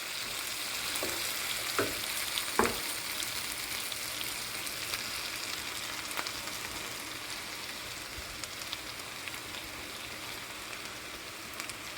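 Potato and fenugreek-leaf curry frying in a pan, a continuous close sizzle with a few scraping stirs near the start and scattered soft crackles throughout, no voices.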